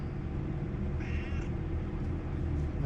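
A cat meows once, a drawn-out call over a steady low rumble of idling machinery, heard in a truck repair setting.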